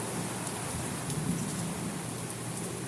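Heavy rain pours down steadily over a backyard with a pond during a thunderstorm, a constant, even hiss of falling water with no voices.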